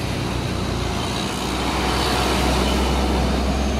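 A large concrete mixer truck rolls past on an Indonesian road, a dense, steady engine rumble and tyre roar that stays loud and close throughout, with a slight swell partway through.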